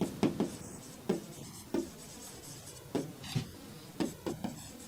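Pen or pencil writing by hand on paper, a series of short scratchy strokes and taps in irregular bursts, close and fairly quiet, with no talking.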